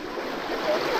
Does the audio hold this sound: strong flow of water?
yes